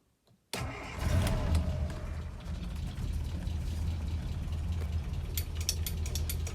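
A Land Rover Series III engine cranks after brief quiet and catches into a steady, rumbling idle. The sound is close and continuous, with mechanical rattles on top.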